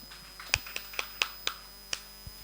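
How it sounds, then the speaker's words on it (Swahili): Sparse, sharp handclaps ring out in a church as children and worshippers clap in praise of Jesus: about eight separate claps spread unevenly over a couple of seconds, faint and somewhat distant, with no voices. "Pigie Yesu makofi."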